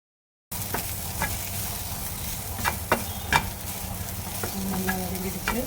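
Bread snack mixture with spices sautéing in a pan, a constant close sizzle broken by sharp clicks and scrapes of a spoon stirring, no voices.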